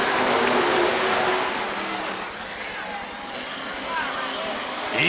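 Race cars at Rockford Speedway picking up speed toward the green flag in 1994 championship racing, a loud continuous engine roar with a commentator talking over it throughout.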